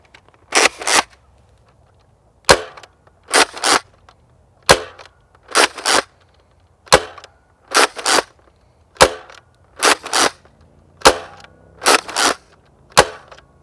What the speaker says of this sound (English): there are all of our shots fired off